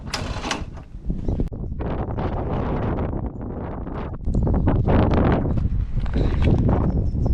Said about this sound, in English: probably can't hear me because it's so windy